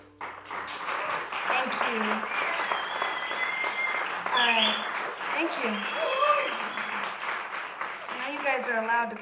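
Studio audience at a Christmas show clapping steadily, a dense, sustained round of applause filling the space while voices and bits of talk or singing cut through on top.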